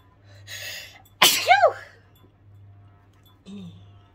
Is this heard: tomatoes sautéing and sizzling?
no